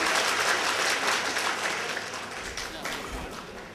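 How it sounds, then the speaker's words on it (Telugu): Audience clapping in a hall during a religious question-and-answer session, a loud continuous burst of many hands that gradually thins toward the end. "దయచేసి ఎవరు క్లాప్స్ కొట్టమాకండి, అది మంచి పద్ధతి కాదు"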